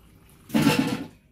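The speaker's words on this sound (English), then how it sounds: "And then I mix it with water." Water poured into a bowl of flour mixture for mandazi dough, a short close splashing pour lasting about half a second, alone.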